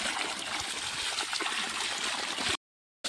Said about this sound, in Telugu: ఇది వచ్చేసి మిషన్ భగీరథ వాటర్ ట్యాంక్. తాగే నీళ్ళు